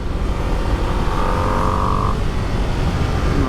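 A Ducati Panigale V2 engine drones steadily while the bike is ridden, a loud, constant roar with a brief rising tone partway through and no pauses.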